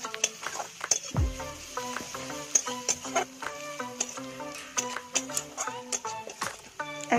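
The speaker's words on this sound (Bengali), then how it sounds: "রসুন বাটা দেওয়ার পরে ভালোভাবে ভেজে নেব।" Garlic paste frying in a pan for a Bengali rui fish curry: steady close sizzling crackle with frequent sharp ticks and clinks of a utensil stirring against the pan.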